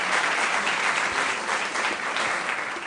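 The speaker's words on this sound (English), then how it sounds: "A round of applause for them, please." Audience applause at a junior school quiz, a steady wash of many hands clapping for the whole stretch, fairly loud and close, then easing slightly at the end.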